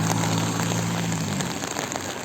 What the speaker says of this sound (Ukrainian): а тут я десь під дощом, просто проливним